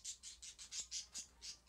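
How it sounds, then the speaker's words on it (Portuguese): Bright bird squawks and chirps repeat steadily about every fifth of a second, a busy chorus at moderate loudness within a Clash of Clans game, with no voices. "os passarinhos estão fazendo suruba, mano"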